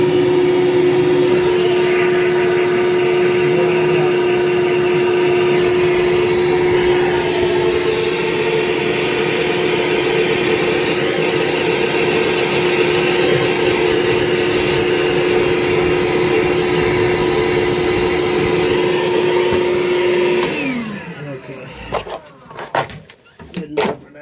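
Air blows through a hose during a toilet replacement as a loud, steady whine with a constant tone for about twenty seconds, then cuts off into a few clattering knocks.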